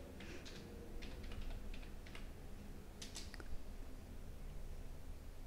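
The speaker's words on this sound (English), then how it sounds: "So I'm just typing the command, that is php artisan serve." Keys clatter on a computer keyboard as a terminal command is typed, quick irregular bursts of clicks with short pauses between them, close and fairly soft, with no talking.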